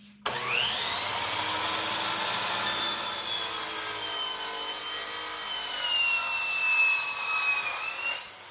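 A board of reclaimed lumber is cut with a power saw, whose loud, steady whine runs close for about eight seconds, shifting as the blade bites the wood, then stops abruptly.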